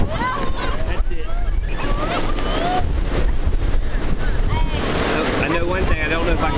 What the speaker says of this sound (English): Well, it's awful windy today.